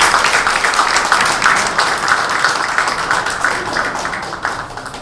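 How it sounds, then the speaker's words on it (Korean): Steady applause from an audience at a Korean party supreme council field meeting in Incheon Geomdan, dense and continuous clapping at even loudness throughout with no break. "우리가 다 함께 박수로 약속을 할까요?"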